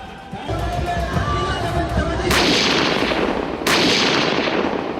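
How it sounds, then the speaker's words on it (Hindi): Cannon rounds of a 21-gun salute at a royal coronation ceremony in Udaipur, Mewar, with two loud booming blasts a little over a second apart over a steady crowd and ambient din. "इक्कीस तोपों की सलामी दी गई।"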